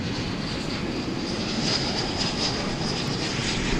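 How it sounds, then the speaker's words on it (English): Iberia Airbus A330-200 jet departing DFW for Madrid at night, a steady broadband engine roar holding loud and close for the whole stretch with a faint high whine on top, no voices. "Right behind it is the Iberia A330, was it a 200?"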